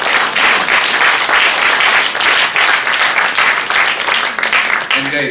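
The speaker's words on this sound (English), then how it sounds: "another round of applause, please." At a youth achievement award ceremony, loud, close applause from the audience fills the room as continuous dense clapping, ending with a brief voice at the end.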